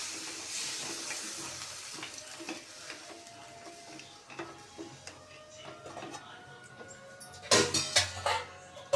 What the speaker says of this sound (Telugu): ఇప్పుడు కూరకు సరిపడగా వాటర్ పోస్తున్నాను.